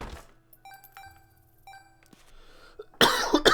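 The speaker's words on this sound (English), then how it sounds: "Apologies for the coughing again." A person with a lingering cold coughs in a short harsh burst near the end, close and loud, after a stretch of Binding of Isaac game chimes, tones and thunks.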